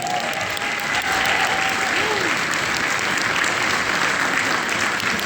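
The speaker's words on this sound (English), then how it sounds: "Give me a round of applause for that." An audience at a Q&A event in the Liverpool Lighthouse gives a round of applause, steady and full clapping throughout, with faint voices and a brief whistle-like tone mixed in.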